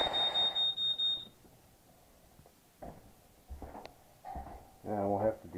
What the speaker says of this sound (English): Alright, set the smoke alarms off.